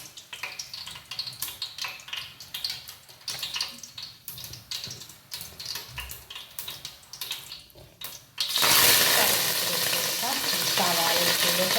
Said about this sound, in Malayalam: വെളിച്ചെണ്ണ ഒഴിച്ച് നല്ലപോലെ സവാള വാട്ടിയെടുക്കാം.